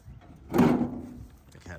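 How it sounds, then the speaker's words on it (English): A door on a 1970 Oldsmobile Rallye 350 muscle car swings shut with a single muffled thunk partway through, close by, with a voice murmuring around it. "Let me close this door."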